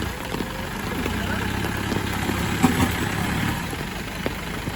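Vehicle engine idling outdoors, a steady low rumble that holds evenly throughout at moderate level with light background noise.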